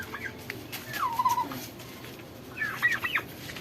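A turkey gobbles twice, a warbling call near the start and another toward the end, fairly close amid quiet outdoor background.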